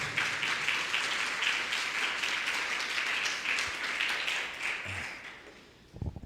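Church congregation applauding during a sermon, a dense, even burst of many hands clapping that carries on for several seconds before tapering off into a few scattered claps and a brief close bump.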